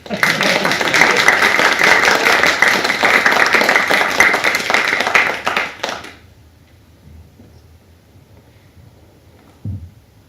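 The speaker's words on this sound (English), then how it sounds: "Applause, please" Audience applause rises at once into a loud, dense clatter of many hands, holding for about six seconds before cutting off into near silence, with one faint thump later.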